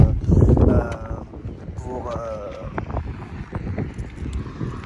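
Heavy wind buffets the microphone with loud low rumbling gusts, while a voice briefly speaks over the noise.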